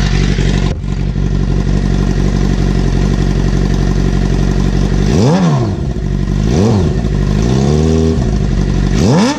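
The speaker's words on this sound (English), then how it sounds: "She's about running temp now, so let's get a quick rev in it." A warmed-up motorcycle engine idles loudly and steadily close by, then gets three sharp revs in quick succession, each climbing and falling back, with no one talking.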